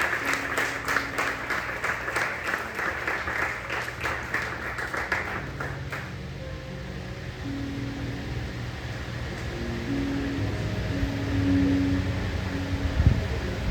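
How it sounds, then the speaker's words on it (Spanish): A church congregation applauds steadily, with dense clapping that fades into a softer hum and low murmuring toward the end. "Denle un aplauso más fuerte al Señor."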